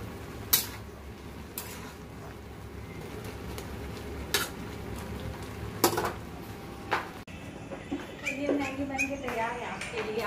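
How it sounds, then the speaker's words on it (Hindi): Maggi noodles cook in a pot on a home stove as a spoon occasionally clanks against the metal over a soft, steady sizzle and bubbling. Someone talks over the kitchen sounds near the end. "तो यहाँ पे मैगी बन रहा है और अभी बस मैगी मसाला डालना बाकी है"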